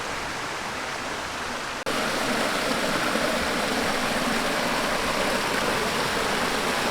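Little Gap Creek flowing beneath an old stone bridge about 200 years old, a steady broadband rush of water that jumps louder after a brief cut and then holds constant with no voices.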